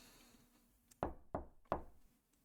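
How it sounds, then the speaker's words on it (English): Three firm, evenly spaced knocks on a door in a video game, loud and close against a quiet background. "Knock."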